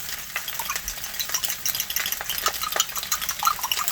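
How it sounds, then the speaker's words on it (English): Eggs being scrambled into rice in a hot pan during food prep: a steady close sizzle with quick irregular scrapes and stirring clicks, and no talking. "I kind of like to mix the eggs into the rice. Just scramble them up pretty good."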